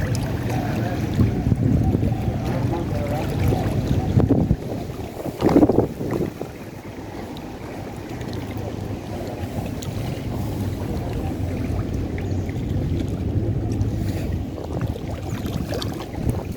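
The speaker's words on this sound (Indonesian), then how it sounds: "Ini anginnya semakin kencang saja mas bro" Strong wind buffets the microphone on a small fishing boat, a steady roaring rush with low rumble that swells and eases over the whole stretch, loud and close, with no voices.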